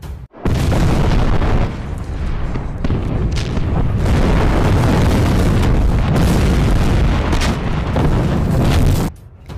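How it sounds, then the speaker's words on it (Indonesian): Heavy artillery fire in a World War II battle scene from the war film Panfilov's 28, with loud, continuous booming blasts and rumbling explosions lasting for several seconds before a brief drop to quiet. "Tembakan artileri pun diluncurkan."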